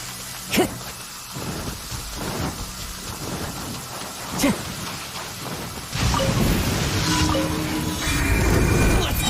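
Steady rain in a thunderstorm in the video game Genshin Impact, with two sharp thunder cracks early on and the downpour growing heavier and louder in the final seconds, no talk.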